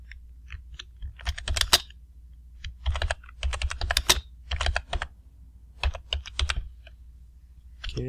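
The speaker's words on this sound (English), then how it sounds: "That's what happens when the old man can't type. Gotta look at the keyboard." Clicky computer keyboard typing comes in several short bursts of rapid keystrokes separated by pauses, close and clear with no talk.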